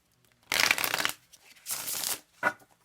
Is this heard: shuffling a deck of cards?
yes